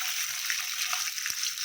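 Panch phoron and whole cumin seeds fry in hot oil, a bright, dense sizzle with small pops and spatters running continuously at close range.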